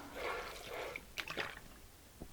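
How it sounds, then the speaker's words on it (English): Water squeezed from a pressed plastic bottle with fine holes onto a wool felting layout, a soft sprinkling hiss followed by a few brief spatters and drips, close and quiet. "press your bottle and distribute water to wet your layout"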